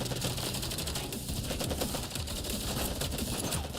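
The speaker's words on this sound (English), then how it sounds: "Intense gunfire tears through the silent night." Intense automatic gunfire from the video game Girls' Frontline 2: Exilium rattles in a dense, continuous stream of rapid shots, loud and unbroken throughout.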